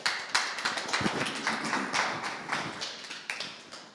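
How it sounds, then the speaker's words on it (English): A small audience gives Andrea a round of applause: scattered, fairly quiet hand claps with irregular sharp hits that trail off toward the end. "Let's give another round of applause to Andrea."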